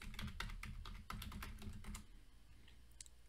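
Rapid keystrokes on a computer keyboard as code is typed, a close run of clicks for about two seconds before the keys fall quiet.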